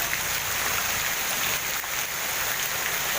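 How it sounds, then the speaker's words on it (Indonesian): Heavy rain pours down onto a flooding road, a dense, steady roar of water with no breaks and no voices. "semoga hujannya cepat berlalu"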